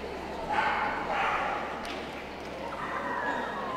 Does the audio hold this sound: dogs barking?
yes